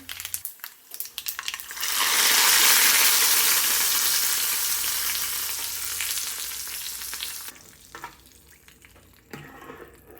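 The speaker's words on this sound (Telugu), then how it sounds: "ఈ తాలింపు తీసి ఆ పప్పుచారులో వేసేయడమే" A loud burst of sizzling as hot oil tempering hits drumstick lentil soup, swelling suddenly after a quiet start, then settling into a steady hiss that slowly fades.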